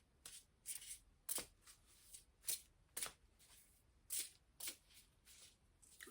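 Oracle cards for a tarot reading being shuffled by hand, a quiet, close series of crisp riffling bursts repeating roughly every half second.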